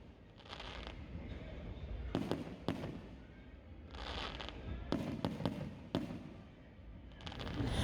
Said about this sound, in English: they were shooting off fireworks